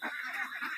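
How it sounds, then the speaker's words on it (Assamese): Local desi ducks call on a duck farm in Nalbari, Assam, a single short, nasal honking burst, close and clear. "লোকেল পাতিহাঁহ, যিখিনি দেশী হাঁহ বুলি কোৱা হয়"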